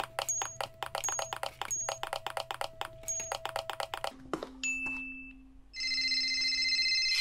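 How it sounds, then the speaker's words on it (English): A phone rings in a Unity game: a bright, multi-tone electronic ring starts near the end and holds steady and loud. Earlier, a rhythmic run of game pickup clicks and chimes plays, then a short sustained tone. "sure enough, the phone rings again."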